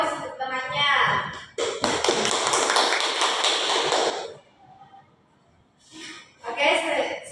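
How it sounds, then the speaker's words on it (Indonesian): Grade 4 primary school pupils applaud a classmate with a few seconds of steady, dense clapping, close and loud, framed by a teacher's talk before and after. "beri aplaus untuk temannya"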